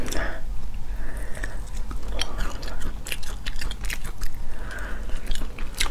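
Close, crisp crunching and biting of steamed crab shell and meat, steady chewing sounds with occasional sharp cracks throughout.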